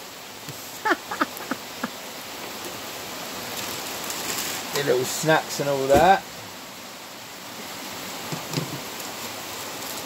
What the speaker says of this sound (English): Torrential downpour.